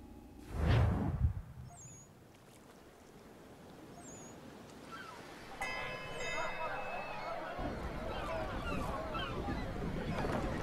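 A sailing ship at sea in Assassin's Creed 3, with a steady wash of waves and wind. A thud comes at the start and creaking rigging and ship sounds build up later, while voices talk over the scene.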